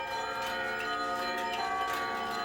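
Bells of a Russian Orthodox church in Kyiv peal for a service, many large and small bells struck from a keyboard chime together in a continuous ringing chorus without speech.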